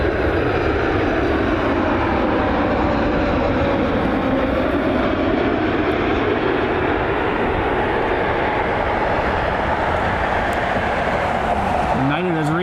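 A United airliner's engines roar loud and continuous while it lines up on the runway at Cleveland Hopkins airport, a broad steady rumble close by, with a voice talking over it.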